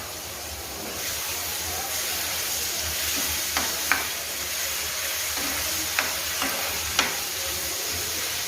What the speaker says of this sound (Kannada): ಈಗ ಮೊಸರಲ್ಲಿ ಹಾಕಿಟ್ಟಂಥ ಮಸಾಲೆಯನ್ನು ನಾನಿಲ್ಲಿ ಒಗ್ಗರಣೆಗೆ ಹಾಕ್ತಾ ಇದ್ದೀನಿ.